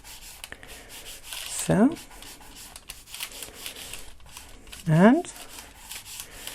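Powder being rubbed onto a junk journal cover by hand, a soft close scratchy rubbing that comes and goes, with a woman's quiet brief speech over it.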